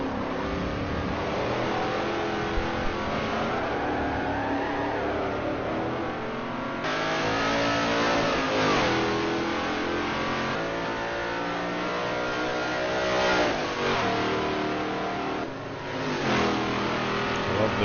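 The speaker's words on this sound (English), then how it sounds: "The sound of that Dodge Dart." A Dodge Dart race car in a historic Trans Am racing video game at the Indianapolis Grand Prix circuit roars loudly and steadily, its engine pitch rising and falling through repeated accelerations and gear shifts.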